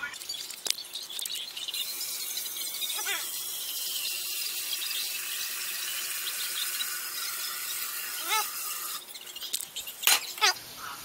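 Tap water pours steadily into a pot for rice, a continuous close hiss and splash with a few brief squeaks and clatters near the end.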